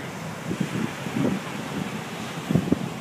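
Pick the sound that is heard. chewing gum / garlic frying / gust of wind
gust of wind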